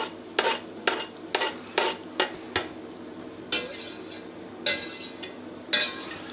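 Finely chopped garlic and onion stirred in a pan over medium heat, a spatula scraping the pan in repeated quick strokes with light clinks, under a low sizzle, close and alone.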